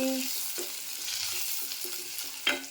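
Curry leaves frying in a pan with onion and garlic give off a steady close sizzle, with a few soft stirring scrapes and a brief sharper crackle near the end.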